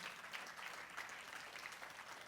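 A church congregation applauds in a brief burst of even, crackling clapping that sounds faint and somewhat distant.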